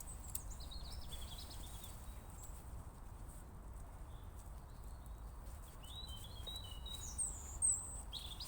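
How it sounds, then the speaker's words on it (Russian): Faint bird chirps and short calls in open air beneath a clear blue sky, scattered intermittently over steady low rumble, with a slightly louder burst near the end. "А вот интересно, птички себя, только себя слышат или друг друга?"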